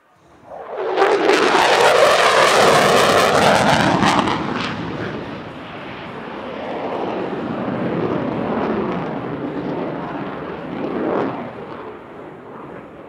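An F-16 fighter jet at an airshow tears overhead with a loud, roaring swell that peaks early, then trails off into a long, rumbling fade with a gusting edge.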